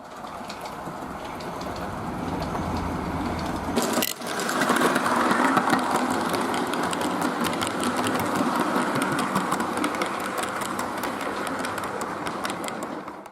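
A weathered Hornby model steam locomotive, renumbered from the original Claude Hamilton, runs on a layout with a steady whirring, buzzing motor drone, close and continuous, swelling slightly after a brief dip.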